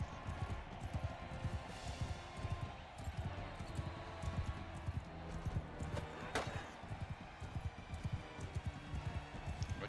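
Horse hooves clatter in a steady galloping rhythm during medieval combat in Mount & Blade II: Bannerlord, fairly faint and continuous under other game noise.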